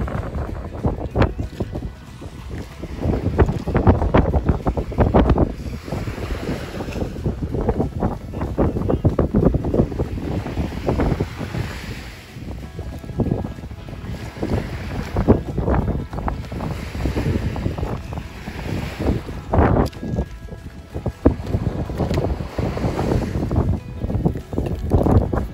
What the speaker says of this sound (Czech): Snažím se mluvit, ale tady tak fouká,